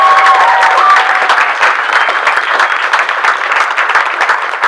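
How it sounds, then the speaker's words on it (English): A festival audience gives the film's cast a loud, dense round of applause, many hands clapping continuously at close range. "how about a big round of applause for the cast of the film?"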